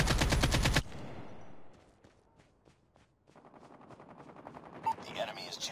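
A loud, rapid burst of automatic gunfire in a video game opens the clip and cuts off abruptly, followed by quieter scattered shots and movement sounds that build again toward the end.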